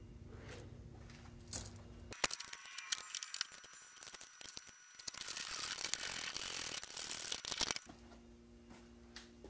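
Nylock nuts being fitted onto new studs on a brake master cylinder of a Mopar A-body, a burst of ratcheting clicks and metallic tool rattles lasting several seconds, fairly close, between quieter stretches of shop ambience.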